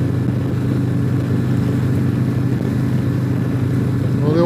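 A Harley-Davidson Tri-Glide three-wheel motorcycle cruising on a highway gives a steady, loud engine drone mixed with wind rush, holding an even level throughout.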